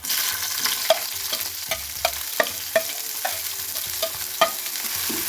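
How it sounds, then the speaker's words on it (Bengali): Tomato, green chili, onion and spring onion fry in oil while a spatula stirs them, a steady sizzle broken by regular scraping taps against the pan, close up with no voices. "জালমুড়ি বানাবো, সেজন্য এগুলো একটু আগে ফ্রাই করে নিচ্ছি।"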